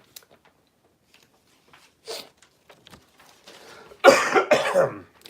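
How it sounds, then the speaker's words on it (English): A single person, recovering from a lingering cough, coughs close to the microphone in a quiet room: a short cough, a throat clear, then two louder, harsh coughs near the end. "recovering from the cough that won't die"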